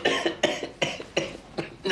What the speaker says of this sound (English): Is it because of that nasty cough?